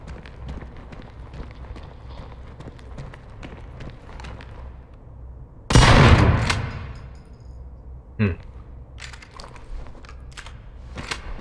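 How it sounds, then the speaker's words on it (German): A single loud pump-action shotgun blast goes off in the video game Daymare 1998, preceded and followed by quick running footsteps and small impact sounds, with a short sharp click shortly after the shot. "Soll ich es mit der Pumpgun mal probieren?"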